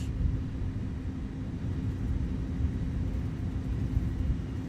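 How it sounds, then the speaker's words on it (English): Inside an Airbus A300 airliner on approach, a steady low rumble and airy roar fill the cabin with faint rattling texture, continuous and moderately loud with no voices. "Plane sounds like it's going to fall apart."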